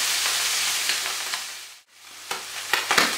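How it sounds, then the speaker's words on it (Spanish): Prawns frying and being stirred with garlic in a hot pan, a steady close sizzle with scraping stir sounds that dips briefly to near silence before resuming with sharper clatters. "ya le añadimos el gambón y lo mismo. Lo movemos hasta que empiece a ser transparente y cambie de color."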